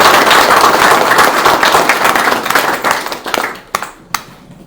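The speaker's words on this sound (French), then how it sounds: "on va simplement applaudir la famille Arnaud qui nous accueille ce soir" An audience claps loudly for the Arnaud family hosting an evening gathering in Antananarivo, a dense sustained ovation that thins into a few scattered claps near the end.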